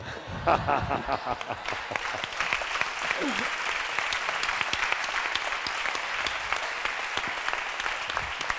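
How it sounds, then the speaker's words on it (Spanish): Sustained audience applause for authors Dolores Redondo and César Pérez Gellida at a literary event, dense clapping from a large crowd throughout, with a brief burst of laughter and murmur near the start. "Un fuerte aplauso para ellos, por favor."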